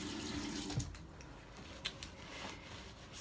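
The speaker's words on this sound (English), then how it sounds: "I'm gonna wash off my little palette thing" A tap runs steadily into a sink while a makeup palette is washed, a faint continuous splash with a couple of small knocks.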